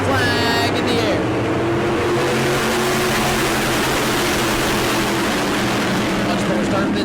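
Modified race cars roar together at New Smyrna as the field takes the green flag, a loud, dense wall of engine noise rising and sustained, with a commentator's voice faintly present.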